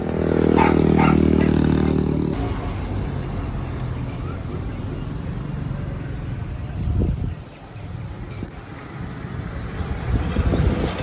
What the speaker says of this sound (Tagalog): yung nabili natin na water pump. Ayan na, ginagamit na natin.